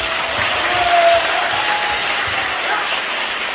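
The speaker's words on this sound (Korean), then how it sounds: "내가 기자님들에게 박수 한번 쳐드리겠습니다." A room of reporters breaks into applause, a close, continuous patter of many hands clapping at a steady level throughout, with a faint tone briefly audible over it.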